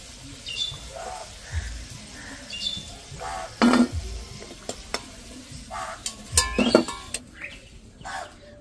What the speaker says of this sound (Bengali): বাকিগুলোকেও একইভাবে ভেজে নিচ্ছি